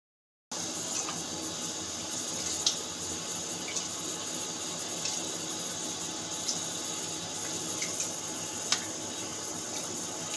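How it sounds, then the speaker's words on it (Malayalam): Rice being washed in water in a home kitchen gives a steady, faint wash of running and sloshing water with a few small clinks, without speech. "അരി കഴുകുന്നുണ്ട്, ഇനി അരി കഴുകിയിടണം."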